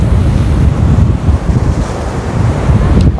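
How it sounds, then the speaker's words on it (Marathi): Rough Arabian Sea waves crash against the Kerala coast, a loud, continuous roar of surf mixed with heavy wind buffeting the microphone. "अजस्त्र लाटा, अजस्त्र आवाज।"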